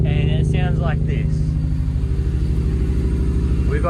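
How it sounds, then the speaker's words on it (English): A Ford Barra engine with a non-cammed setup idles high near 2,000 rpm, heard from the exhaust as a loud, steady, slightly rough drone with a constant pulsing rhythm, and brief voice fragments over it. "We've got a high idle at nearly 2k."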